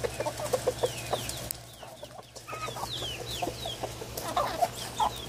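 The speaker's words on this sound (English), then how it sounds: "Chicken fight." Chickens fighting over cicadas cluck and squawk in quick, scattered bursts, close and busy against a low steady hum, with no voices.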